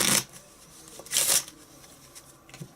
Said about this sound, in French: demandez au spectateur de mélanger le paquet